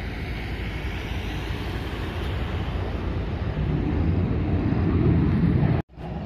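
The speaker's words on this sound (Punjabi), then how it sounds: "ਇੱਕ ਜਹਾਜ਼ ਆਇਆ ਜੀ ਪਾਕਿਸਤਾਨ" A small private passenger plane passes near Islamabad airport, its broad steady engine roar loud and close throughout, swelling slightly toward the end before a brief dropout.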